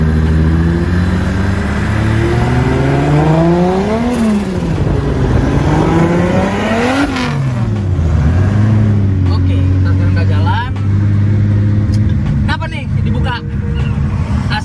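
A BMW E90 fitted with a 2JZ-GTE engine pulls away, its engine note rising and falling through several revving sweeps, loud and close, with people talking over it.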